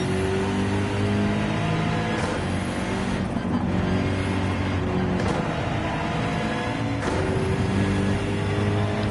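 Race car at full throttle in Gran Turismo 7 at Watkins Glen, a sustained loud engine roar holding high revs with brief dips at gear changes and no talking.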